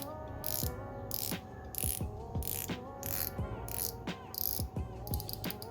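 Black ceramic 120-click diver's bezel on a Steeldive Seiko 6105-homage watch turned in a series of crisp ratcheting clicks, close and distinct, in several quick bursts with short pauses between.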